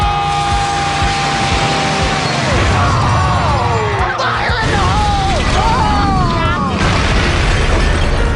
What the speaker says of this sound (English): It's time to do some demolition! Let's do some demolition!